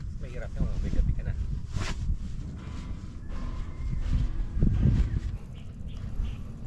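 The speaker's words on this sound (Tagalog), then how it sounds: "May konting hangin." Light wind at a car-camping site in the Tanay Highlands, a steady low rumble of breeze buffeting the microphone throughout, with someone talking over it and faint birds in the background.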